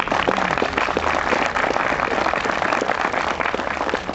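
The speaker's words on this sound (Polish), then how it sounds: "Brawa, serdeczne brawa." Audience applause at an award ceremony announcing results of a regional emergency medical rescue championship, dense sustained clapping from a large crowd throughout.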